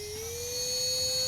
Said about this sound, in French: Un petit coup de souffleur.